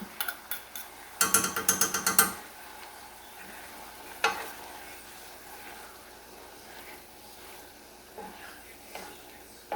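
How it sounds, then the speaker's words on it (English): Garlic frying in a pot for a Cajun chicken and sausage risotto: a quick burst of rapid spoon clatter against the pot, then a low sizzle with scattered knocks and scrapes. "now we're going to add our garlic to this. And we're just going to cook it till it's fragrant."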